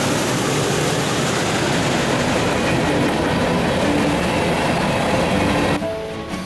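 A long freight train rolls past on the San Juan Branch Line with a loud, steady rumble and clatter of wagons on rails, which eases off near the end.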